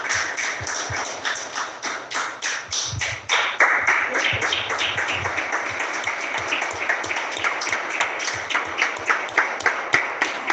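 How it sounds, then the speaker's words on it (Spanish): Congregation applauding at a Spanish-language church service, a dense crowd of claps ringing out steadily for about ten seconds with a rhythmic, pulsing quality, fairly close and loud with no talk over it. "Dale un fuerte aplauso al Señor."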